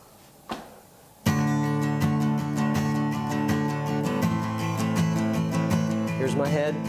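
Guitar strumming at a steady pulse with four strums per beat, a dense, bright run of chords that starts abruptly after a brief soft knock and carries on loud and even to the end.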